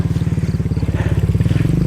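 A motorcycle rides along a path through rice fields, its engine giving a steady, rapid pulsing putter, loud and close throughout.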